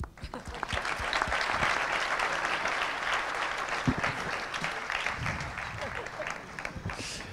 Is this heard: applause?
yes